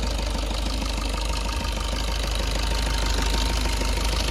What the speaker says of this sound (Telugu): సైలెంట్గా ఉంది ఇంజన్ బీటింగ్ వచ్చేసి